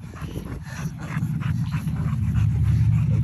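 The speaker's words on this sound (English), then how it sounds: "You gotta know how to handle these little bad pups." A young puppy pants rapidly and rhythmically close by, with quick breathy puffs over a low, steady background.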